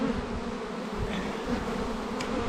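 Honeybees buzz steadily around an opened beehive during a late-summer inspection on a ranch, a dense, continuous drone that stays close and even throughout with no talking.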